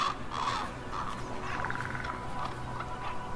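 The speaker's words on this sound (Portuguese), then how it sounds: "os corvos também habitam as regiões a norte do Círculo Polar" Ravens north of the Arctic Circle give a series of harsh, croaking caws, moderately close and repeated over a steady background hiss, with no voices.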